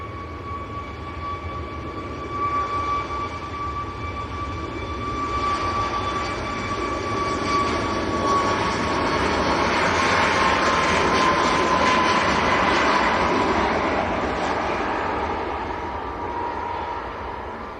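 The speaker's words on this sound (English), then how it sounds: "Ryanair about to depart, going full length" A Ryanair Boeing 737 MAX takes off for Marseille from Manchester Airport, using the full length of the runway. Its engine roar builds to a broad, sustained rumble with a thin whine on top, then eases slightly.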